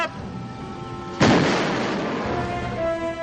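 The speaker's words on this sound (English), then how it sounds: "With the contact explosion, a much smaller charge was needed." A small contact charge set against the water side of a model dam detonates in a single sudden, loud blast, followed by a long rumbling, crackling decay as debris and water settle.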